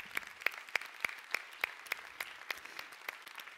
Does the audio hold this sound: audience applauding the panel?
yes